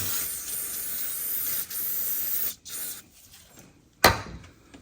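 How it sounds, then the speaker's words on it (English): Brake cleaner sprays from an aerosol can around the drain plug of a 2016 Subaru Crosstrek during an oil change, a close hiss that runs steadily for a few seconds, cuts off, then returns as one short sharp burst. "grab some brake clean and just clean the area up"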